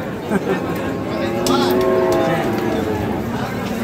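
Cattle at a livestock market moo loudly and close by, one long drawn-out low call rising and falling, with crowd murmur underneath.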